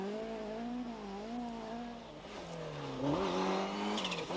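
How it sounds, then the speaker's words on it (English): A rally car driven flat out on a stage in the 1994 Townparks Rally, its engine note climbing and falling through gear changes as it revs hard, loud and close, with no talk over it. "And this is as expected, a flat-out effort from the start from Stephen Mawhinney"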